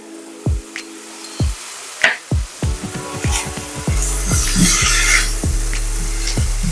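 Slider burger mixture being worked by hand in a bowl with garlic powder, seasoned salt and black pepper, a run of soft squelching and rubbing strokes that grows denser and steadier toward the end.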